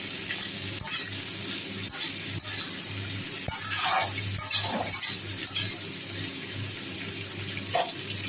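Ridge gourd stirred and frying in a pan, a steady wet sizzle with irregular scraping strokes of a spatula rising and falling across the stretch, close and moderately loud, no talk.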